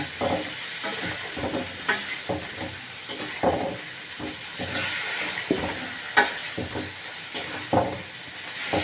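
Chicken meat sizzles loudly in hot oil while a spatula stirs and scrapes it in a pan, a steady frying hiss broken by repeated clanking strokes.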